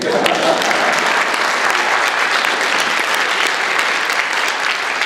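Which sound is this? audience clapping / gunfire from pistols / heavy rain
audience clapping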